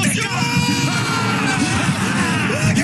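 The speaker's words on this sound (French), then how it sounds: "Frappe lointaine, hurlement des supporters." Football supporters in a stadium roar after a long-range goal, a dense, loud wall of crowd yelling and cheering that holds steady throughout with no single voice standing out.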